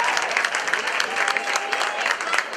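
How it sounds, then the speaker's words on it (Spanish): Loud, dense applause from an audience at a children's Christmas festival in Cadreita, steady clapping throughout with no talk on top. "Un aplauso fuerte para Enrique."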